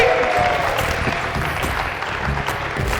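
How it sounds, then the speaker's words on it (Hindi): A studio audience at a TV talent-hunt game show applauds with a dense, steady clapping that fills all three seconds at close, loud level, with a faint crowd murmur underneath. "तालियां होनी चाहिए भाई"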